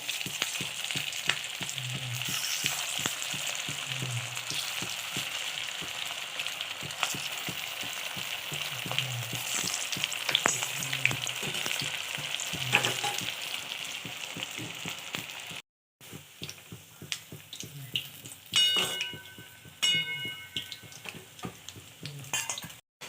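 Snacks deep-fry in oil over a medium flame, giving off a continuous crackling bubble. A ladle makes soft periodic clinks and scrapes as the pieces are turned. There is a short break partway through, and no one speaks.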